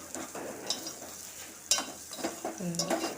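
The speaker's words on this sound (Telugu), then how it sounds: "ఒక స్పూను పసుపు వేసుకొని కలుపుకోవాలి" Spices frying in a pan for Gangavailu curry with a spoonful of turmeric stirred in, giving a steady close sizzle with scraping stir strokes, one sharper scrape near the middle.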